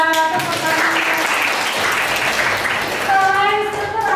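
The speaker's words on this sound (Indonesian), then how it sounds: "Tepuk tangan." A class of students claps together in a classroom, a dense burst of applause that swells and then fades, with a voice speaking over it at the start and end.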